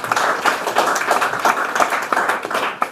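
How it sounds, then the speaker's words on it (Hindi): A short burst of clapping from a group, steady and fairly close, lasting a few seconds with no talking over it. "जोरदार तालियां होनी चाहिए"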